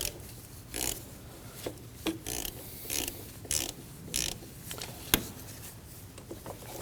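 A ratchet clicks in short repeated bursts while tightening valve cover bolts on a 2003-2006 Subaru Baja 2.5L H4 engine, close up with brief pauses and one sharp tap.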